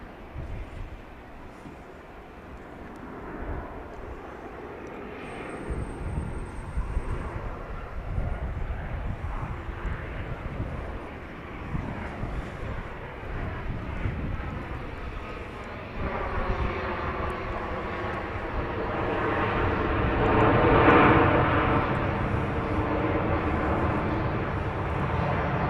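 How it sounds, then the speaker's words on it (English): A 20-year-old Southwest Airlines Boeing 737 landing at Dallas Love Field, its jet roar building steadily from a distant rumble to a loud peak near the end. "This Southwest Airlines 737. Flight 312 coming in from Panama City,"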